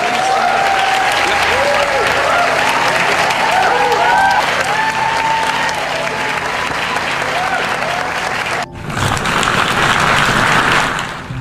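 Sustained audience applause fills a large hall as Bangladesh's chief adviser calls three people onstage and a former US president joins in clapping. The applause briefly dips near the end, then swells again, with a voice talking over it.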